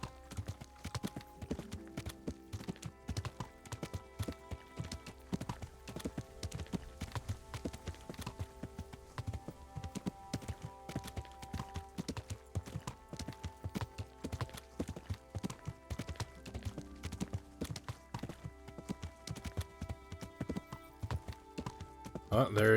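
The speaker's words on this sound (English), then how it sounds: "Ride, Henry, ride like the wind." Steady clip-clop of horse hooves galloping in the medieval video game Kingdom Come: Deliverance, a fast continuous rhythm running throughout, with game music or ambience beneath it.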